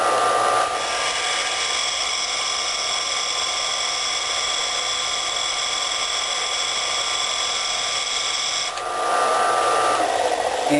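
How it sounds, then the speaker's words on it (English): A small bench grinder grinds a TIG tungsten electrode spun in a hand drill on high speed, giving a loud, steady high-pitched motor whine with a rough grinding hiss that briefly dips and then resumes. "I flip on this little hand grinder, or this little table grinder here, and then hold it."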